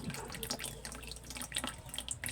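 Lukewarm water runs from a tap into a basin for wiping, a faint, steady trickle with small splashes and drips, close by and with no talking.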